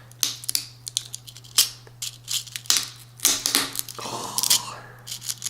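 A rattlesnake rattle being cut in half on a table, its hard, tough material crunching and clicking in sharp irregular snaps and crackles, close and fairly loud against a steady low hum.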